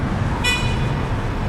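A single short car horn toot rings out over a steady low rumble of Jakarta city traffic, loud and close.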